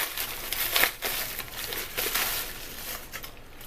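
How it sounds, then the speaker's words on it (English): Plastic bag being pulled open while unboxing an American Express Platinum metal card, giving close, crisp crinkling and rustling in uneven bursts with no talk. "It's kind of hard to open that plastic bag."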